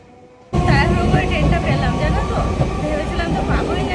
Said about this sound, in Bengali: মাইজরা স্টেশনে আসতে না আসতে ট্রেনটা ঢুকে গেল